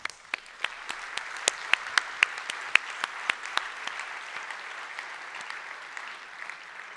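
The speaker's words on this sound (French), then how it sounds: "Est-ce que tout le monde, vous pouvez l'applaudir avec moi ?" An audience applauds as a woman named Coralie is called up on stage: a crowd of hands clapping in a steady wash with sharp individual claps standing out, loudest early on and then thinning and fading.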